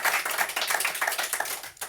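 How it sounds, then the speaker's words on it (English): An audience claps for Anthony Ray at a songwriter session at Joe's Truck Stop, a brief, dense burst of steady applause close by. "how about a round of applause for Anthony Ray, right?"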